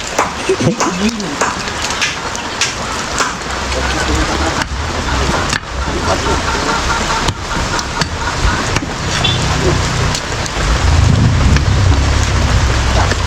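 Steady rain patter fills the scene, with people talking over it and a heavier, rumbling downpour building toward the end.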